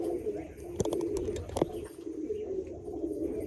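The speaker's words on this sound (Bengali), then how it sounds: "আসুন, এই হচ্ছে মেচুয়া পায়রা" A Mechua pigeon at a pigeon sale near Baruipur gives low, repeated cooing close by, with a couple of sharp knocks and faint background voices.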